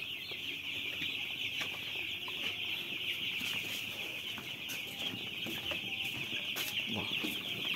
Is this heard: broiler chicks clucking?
yes